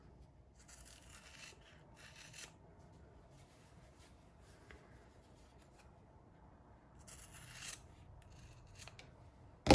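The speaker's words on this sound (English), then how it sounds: "I'm gonna trim the edges like we did on the other one" Scissors trim the edges of swimsuit fabric in several short bursts of snipping and rasping cuts, quiet and close, separated by soft handling rustle, with no voices.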